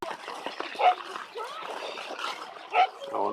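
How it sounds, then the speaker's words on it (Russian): A dog barking and yipping near an outdoor ice rink, a few faint-to-moderate barks from a short distance amid ambient noise. "А вон чья-то собака гавкает."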